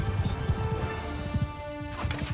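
Horse hooves thud in a steady, rapid rhythm during a Mount and Blade Bannerlord battle, with low, fairly close galloping beats over a busy game soundscape and no clear neigh.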